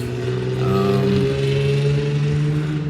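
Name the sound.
loud car passing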